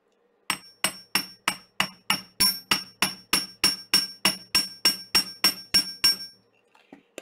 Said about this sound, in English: And now I can hammer this bit.